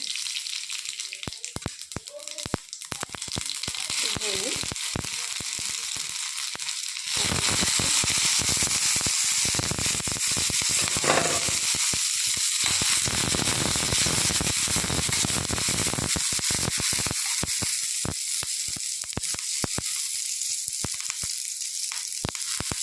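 Curry leaves, garlic and mustard seeds crackle and sizzle in a spoonful of hot oil for tempering buttermilk, a loud steady fry with sharp popping bursts, growing denser partway through and continuing without pause.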